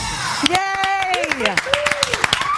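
Audience clapping after a children's sing-along performance of Sesame Street characters on a morning TV show, a brisk run of sharp claps under cheerful, high-pitched voices.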